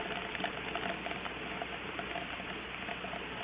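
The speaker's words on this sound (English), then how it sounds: "you can clearly hear the rain falling" Rain falling during Hurricane Agatha's Category 2 landfall, picked up by a live stream microphone as a steady dense hiss and patter that stays constant and fairly faint throughout.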